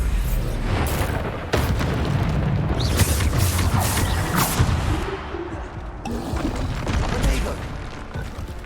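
Repeated Bombarda spell blasts in the Hogwarts Legacy video game, booming bursts recurring through a dense, continuous din of game effects, loud and close throughout.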